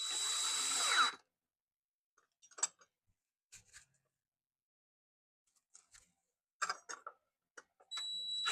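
A power drill drives screws into door hinges, with loud whirring bursts at the start and end and scattered clicks and handling noises in the quiet between.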